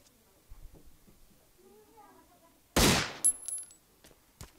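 A single loud gunshot in the mobile survival game Last Day Rules Survival cracks out sharply after quiet ambience, followed by a couple of fainter metallic hits and a brief ringing tail.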